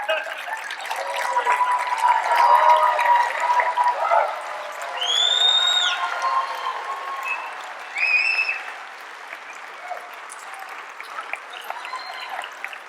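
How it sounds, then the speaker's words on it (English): A church audience in Omaha stands for an ovation, clapping loudly in waves. Bright whoops and whistles rise above the clapping, which fades toward the end. "So I just want you to stand and give me a standing ovation"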